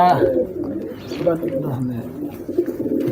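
Fancy pigeons, Bodi and Moor breeds, cooing nearby in low, throaty repeated calls, mixed with people talking throughout.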